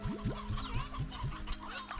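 Chickens cluck in the video game Slime Rancher 2: a quick run of repeated, evenly spaced clucks over a busy bed of game sounds, close and fairly loud, with no talking.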